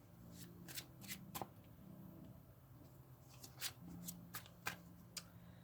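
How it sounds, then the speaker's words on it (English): A classic Rider-Waite tarot deck is shuffled by hand in a quiet room, the soft riffling and crisp card snaps coming in repeated close bursts with no talking. "we will take the classical rider white deck and do the third"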